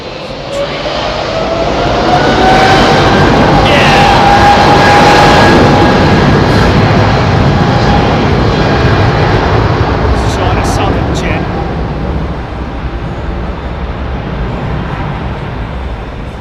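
A Singapore Airlines Boeing 777 jet departs with a loud, sustained engine roar that swells and holds for several seconds, then slowly eases off as the aircraft climbs away, with a voice talking briefly over it.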